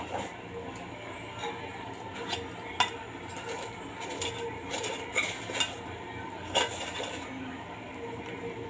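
A spoonful of mustard seeds added to a hot pan, a soft continuous sizzle with light crackling pops and a few clinks of a spoon against the pan, close and moderately quiet.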